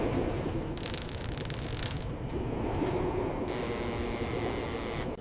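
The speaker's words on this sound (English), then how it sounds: "The train continued deeper into the tunnel." A train runs on through a tunnel at night, a steady dense rumble with metallic clatter and squeal bursts, close and continuous without pause.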